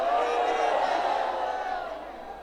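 A political rally crowd in Zafarwal shouts back in unison, a loud surge of many voices that swells and then slowly fades over a couple of seconds.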